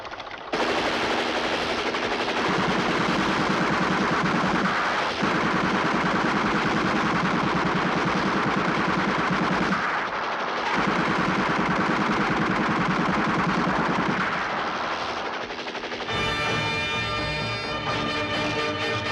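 Sustained rapid gunfire, loud and close, in long continuous bursts broken by a few short pauses over nearly twenty seconds, ending in a tonal musical sting.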